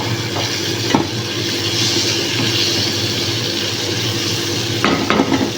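Chili being sautéed with tuna and aromatics in a pan for Filipino mung bean stew: a continuous close sizzle with occasional utensil scrapes and clinks against the pan.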